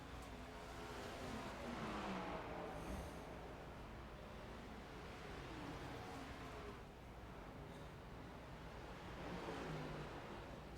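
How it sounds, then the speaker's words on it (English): In a Cup Series racing video game, a race car engine revs with the clutch held in. The roaring engine note swells and fades over and over at moderate volume, with no talk. "It sounds like the 73 car is holding the clutch."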